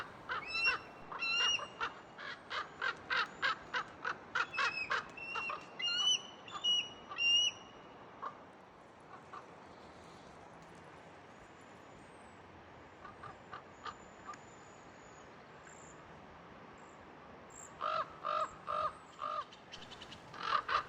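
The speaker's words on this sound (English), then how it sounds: "I woke up to an eagle screaming and crows going crazy" Crows at a Montana campsite caw harshly while mobbing an eagle, sounding in dense repeated bursts early on, then sparse distant calls, then another clustered volley near the end against a quiet morning background.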